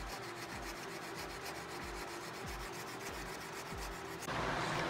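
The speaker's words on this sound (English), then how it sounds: "I use the 1/4 square carbide file." A 1/4 inch square carbide file rasps back and forth inside a wooden dowel, giving a steady, close scraping rhythm of repeated strokes with no talking.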